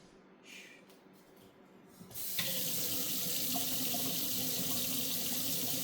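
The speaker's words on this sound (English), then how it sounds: "So I'm just gonna run the tap." A kitchen tap is switched on and runs steadily into a sink, filling the space with a constant close hiss of water after a few quiet seconds.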